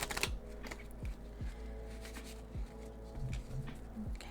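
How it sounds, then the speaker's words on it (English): A deck of tarot cards is shuffled up close, giving soft papery riffles and flicks with several sharper slaps spaced through the passage, set over a low steady background hum with no speech. "one more good shuffle before we see what cards want to flip out of the deck"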